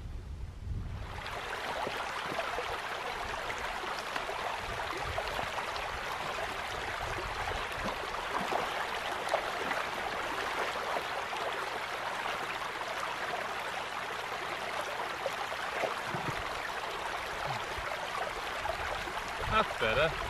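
Whitsundale Beck, a stream beside a walking track, flowing as a steady broadband rush and gurgle that stays continuous and fairly close for the whole stretch, with faint footsteps or rustle at times.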